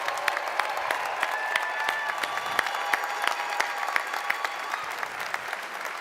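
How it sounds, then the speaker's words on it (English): Audience applause at a large live conference event, a sustained dense patter of many hands clapping with crisp individual claps standing out, continuing evenly without speech. "Give another round of applause for Michael and Matthew."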